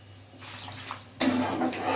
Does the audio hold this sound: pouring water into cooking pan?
yes